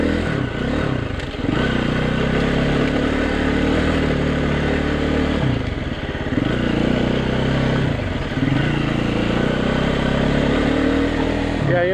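KTM EXC-F dirt bike riding a gravel forest road in Okutama, Japan, engine droning loud and steady while the machine rattles and clatters over the rough surface throughout.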